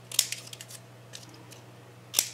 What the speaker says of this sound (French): je vais couper en biseau